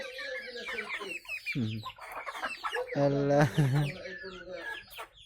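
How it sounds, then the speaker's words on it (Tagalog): Chickens cluck in a busy group while feeding, several birds calling close by in quick overlapping bursts, with someone talking and exclaiming over them. "Oh, mga kasama kong manok."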